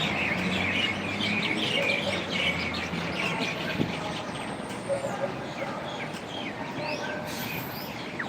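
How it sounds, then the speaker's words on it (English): Rosella parrots chirp and tweet outdoors in Melbourne, a scattered run of fairly faint, high calls over steady background rumble and distant noise. "Rosellas or something, yeah, some sort of parrot."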